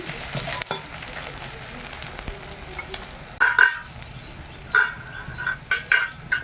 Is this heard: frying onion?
yes